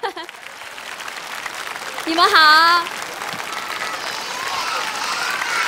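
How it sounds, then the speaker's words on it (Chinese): An audience at a CCTV televised children's dance competition claps steadily after a cat-and-mouse themed dance, while a host speaks over the applause. "掌声送给他们。"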